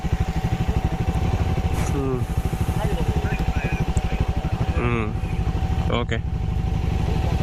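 A motorcycle engine thrums steadily and close during an off-road ride, with brief bursts of talk and laughter from riders over the continuous engine note.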